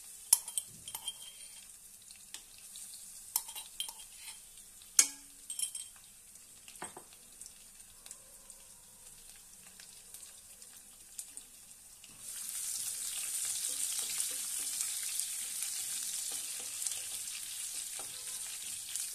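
Mustard seeds, cumin and crushed garlic drop into hot oil for tempering; scattered clinks and light crackles give way to a sustained, loud sizzling hiss that continues steadily to the end.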